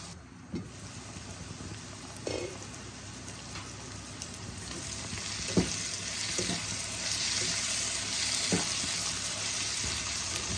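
Mutton frying in a covered pan, a steady loud sizzle and crackle throughout with a few soft knocks and clinks of a utensil.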